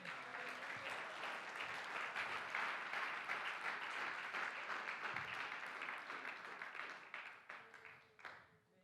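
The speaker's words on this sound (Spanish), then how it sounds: "¿Le podemos dar un aplauso," A church congregation breaks into sustained applause during a sermon, a dense wash of clapping that holds steady for several seconds and then tapers off, with no talk over it.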